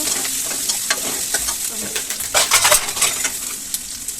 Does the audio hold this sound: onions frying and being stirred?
yes